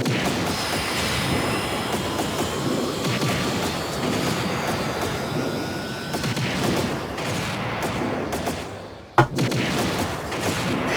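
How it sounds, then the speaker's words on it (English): Cannons fire repeatedly at a legendary monster during an airship battle in the Trails in the Sky SC game, a dense, continuous rumble of blasts with one sharp loud crack near the end. "As if your cannons can do anything against a legend."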